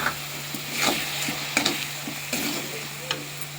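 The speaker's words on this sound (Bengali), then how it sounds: "মশলাটা যাতে পুড়িয়ে না যায় একটু জল দিয়ে দিলাম।" Masala of spices and ground coriander frying in a pan as a splash of water hits it, giving a steady sizzle with scraping stir strokes and a few sharper clinks, close and moderately loud.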